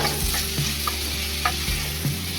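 Pirandai (adamant creeper) frying in a pan for kuzhambu, with salt just added, is stirred with a utensil. A loud, steady sizzle runs throughout, broken by a few light scraping clinks against the pan.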